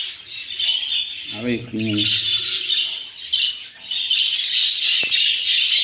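Budgerigars chirp in a busy breeding colony, a dense steady mass of high twittering calls throughout, with a voice briefly speaking over them midway.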